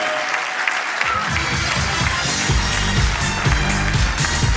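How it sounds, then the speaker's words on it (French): Audience applause for a cyclist at a French sports awards ceremony honoring champions, steady dense clapping from a hall crowd that swells louder midway and continues throughout. "On peut l'applaudir du contre-la-montre, s'il vous plaît."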